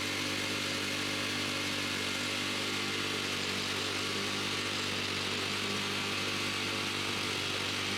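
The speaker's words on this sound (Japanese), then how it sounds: "イセキのラジコンスパイダーモア RC-SP530 というラジコン草刈り機です" An Iseki RC-SP530 remote-control spider mower cuts grass with a loud, steady engine drone and a buzzing blade whine, continuous and close, with no talk.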